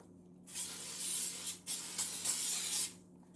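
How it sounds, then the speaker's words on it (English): An oil spray can sprays in several quick hissing bursts into an air fryer, close and bright, with brief pauses between. "Spray some oil."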